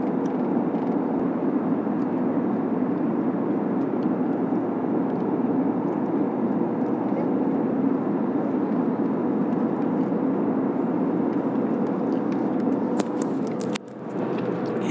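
Cabin noise inside an airliner on a Chennai to New Delhi flight, a constant low engine and air roar that holds steady, with a brief dip and some rustling near the end.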